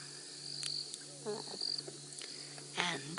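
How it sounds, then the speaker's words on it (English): Olive toads and frogs trill through an evening bush soundscape, steady pulsing calls layered with insect buzz, with a brief spoken word partway through. "I can hear the frogs trilling away, olive toads"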